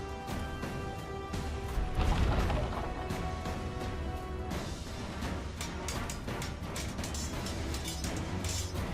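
A ship in a naval video game rams another vessel, producing a loud heavy crash and splintering impact followed by scattered clattering thuds and mechanical noise over a constant background rumble.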